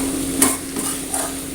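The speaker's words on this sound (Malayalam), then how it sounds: "അപ്പോൾ ഇതിങ്ങനെ നല്ലോണം മിക്സ് ചെയ്തെടുക്കുമ്പോൾ ആ ചേന ഒന്നും കൂടി സോഫ്റ്റായിട്ട് വരും" A spoon scrapes and clinks through yam roast with curry leaves in a pan, three quick stirring strokes over a soft steady sizzle, close and clear with no talking.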